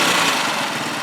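Huoniao HN125 motorcycle engine running close and loud with a steady buzzing drone, its carburettor not revving cleanly.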